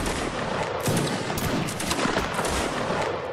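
Dense volleys of musket fire in a Napoleonic Wars line-battle game, overlapping cracks and rolling reports from several directions, loud and continuous with no talk.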